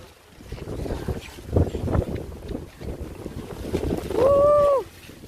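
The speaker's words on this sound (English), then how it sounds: "See how heavy the wind blowing?" Strong, gusty hurricane wind from Hurricane Bret roars across the microphone near St. Lawrence Gap, Barbados, rising toward the end, where a voice briefly whoops over it.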